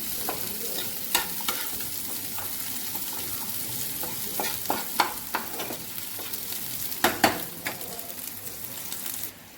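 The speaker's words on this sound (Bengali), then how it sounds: "এগুলোকে একটু লাল করে ভেজে নেবো।" Food being fried until reddish in a pan, a continuous close sizzle punctuated by scraping stirs and clanks of a utensil, with no voices.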